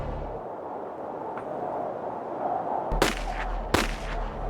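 Gunshots in a played rap documentary: two sharp, loud cracks close together near the end, with low booming over a murmuring background.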